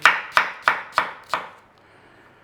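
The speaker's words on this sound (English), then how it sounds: "We're going to slice chunks like that." A knife cuts through cabbage into chunks on a board, five crisp evenly spaced chops close by, then quiet.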